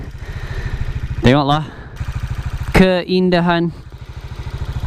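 A Cleveland CycleWerks Ace 250 motorcycle idles and rides on Langkawi island in Malaysia, its single-cylinder engine thumping in a steady close rhythm under a man's speech.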